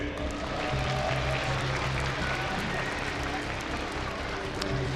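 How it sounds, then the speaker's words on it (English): A large crowd at IEM Katowice applauds and cheers a StarCraft II player at a live esports tournament, a dense, steady wash of clapping lasting a few seconds. "Ladies and gentlemen, give it up for ATN Socke"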